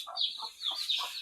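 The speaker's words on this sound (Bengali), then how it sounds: "এই জায়গা হচ্ছে মুরগির বাচ্চা।" Farm hens and young chicks, including Bombay and broiler birds, cluck in short repeated bursts close by, with thin high chick peeps running between the lower clucks.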